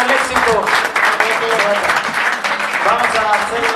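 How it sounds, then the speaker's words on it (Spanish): A crowd in Yonkers applauds Mexican presidential candidate Xochitl Gálvez, steady clapping mixed with cheering voices and chatter from people close by. "Despidamos a nuestra amiga Xochitl Gálvez con un fuerte aplauso, por favor."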